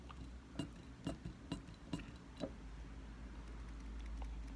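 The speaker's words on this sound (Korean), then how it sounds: "그냥 몇 번 이렇게 수직만 맞추고 그냥 이렇게 몇 번만 해주면은 향수가 이렇게 손쉽게 이동이 됩니다." A pump-style refill atomizer is pressed onto a perfume bottle's nozzle, giving five faint, evenly spaced clicking pumps over a low background hum.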